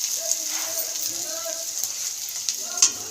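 Onions and green chilies fry lightly in a pan for a fish curry with vegetables. The soft, close sizzle holds steady, with a few stirring clinks and a faint voice beneath.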